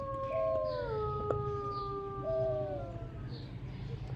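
A dog gives a few long, wavering howls at moderate distance, rising and falling over a low background hum.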